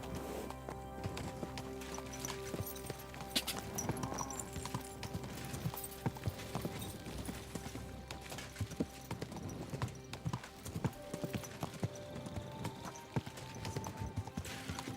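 Rapid hooves clip-clop continuously as horses gallop in Kingdom Come: Deliverance 2, mixed with game sound effects and a few faint whinnies throughout.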